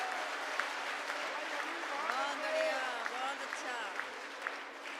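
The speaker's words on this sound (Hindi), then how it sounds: "जरा एक बार मिलके बजाओ तालियां।" Applause from a crowd at a Holi comedy poetry gathering, a soft, continuous patter of many hands heard fairly distantly, with voices and murmuring mixed in throughout.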